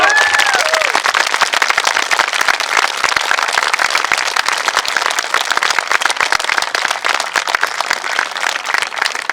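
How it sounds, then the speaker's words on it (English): Loud, sustained audience applause for a young Irish sprinter, a dense wash of many hands clapping that fills the whole stretch without pause, with no talk over it. "Give her a big round of applause."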